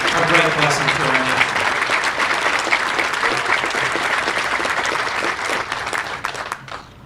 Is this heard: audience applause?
yes